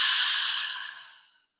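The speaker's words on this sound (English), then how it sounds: "and exhaling, breathing out through your mouth." A single long breath exhaled out through the mouth, soft and airy, close to the listener and alone, tapering off to silence after about a second and a half.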